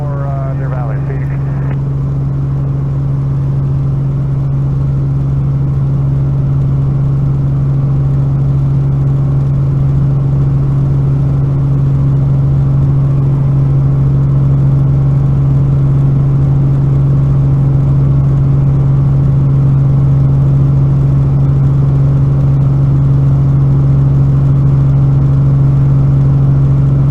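Firebird 10, a traffic helicopter, climbing out west of Camelback Mountain near Phoenix, gives a steady, loud low drone with strong rotor and engine hum that holds for the whole stretch, with no talk over it.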